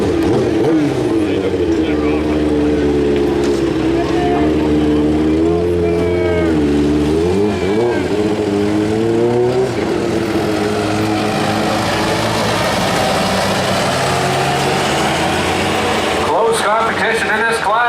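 A modified lawn tractor in the 1,200-pound class roars at full throttle down a tractor-pull track, its loud, steady engine drone rising and falling in pitch as revs change, close and continuous for the whole stretch.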